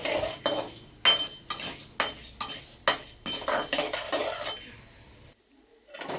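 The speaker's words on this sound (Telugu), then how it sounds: "ఇప్పుడు ఈ శనగపప్పునంతా దోరగా వేయించుకోవాలి" Chana dal frying in oil is stirred with a metal spatula, producing a rapid, regular series of loud scrapes and clanks against the pan, then a short pause and one more stroke.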